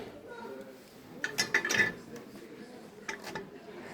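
Light metallic clinks and knocks of lightweight Tefal frying pans being handled, close by and brief, over a quiet room background.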